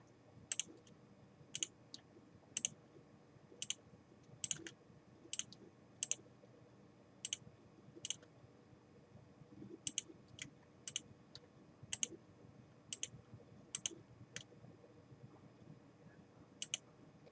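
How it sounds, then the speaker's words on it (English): Computer mouse clicks in a quiet room while image bands are added in remote-sensing software, sharp single and double clicks spaced irregularly over a faint background hum. "make sure you click Add every time you choose a new band."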